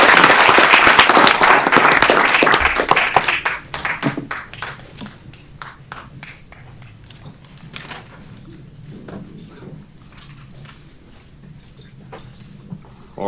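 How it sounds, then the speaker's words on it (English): Audience applause at a city council meeting, loud and dense for a few seconds, then thinning to scattered individual claps over a low room hum. "All right, let's give our new members a round of applause."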